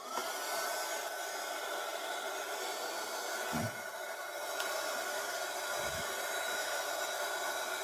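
Dryer running steadily to dry paint on a mixed media canvas, a constant airy whir close by with a couple of brief low bumps as it moves, and no talk.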